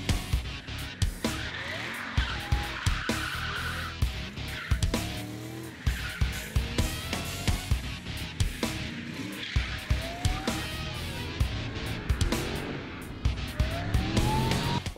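Drift car at a French Drift Championship round skidding through corners with loud tire squeal, repeated sliding screeches and engine surges from a sustained run, with other passes heard across the track.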